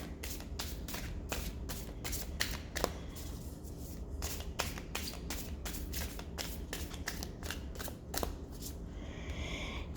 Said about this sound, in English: A little bit difficult to shuffle, so it's still new.